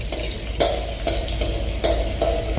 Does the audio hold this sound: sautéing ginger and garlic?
yes